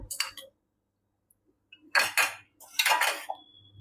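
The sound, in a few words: spoon clinking while adding curd to a bowl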